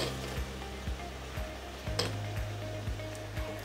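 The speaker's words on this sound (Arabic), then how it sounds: "أسيب الرز شوية يتشرب أو يتغلي شوية بالزيت" Raw rice frying in hot oil with browned onions, a steady loud sizzle with periodic stirring scrapes recurring about every half second.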